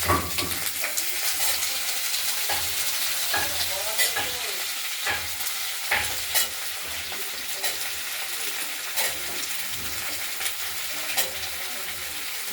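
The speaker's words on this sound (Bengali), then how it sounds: "আর এই কেটে রাখা তরকারিগুলো আমরা এবার দিয়ে দেবো সবাই।" Cut vegetables such as potato, beans, eggplant and radish sizzle and crackle loudly in a pan of spinach tempering with dried chillies, with steady close frying and intermittent stirring scrapes throughout.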